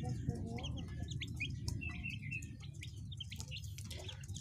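Green junglefowl calling with short clucks and chirpy bird notes over a steady low rumbling background, moderately close and continuous.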